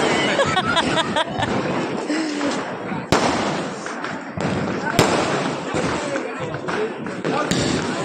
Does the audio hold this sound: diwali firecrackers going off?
yes